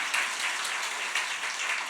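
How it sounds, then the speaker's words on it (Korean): A short burst of congregational clapping during a Friday worship service in a church, dense and even, fairly close, with no talk over it. "박수하겠습니다"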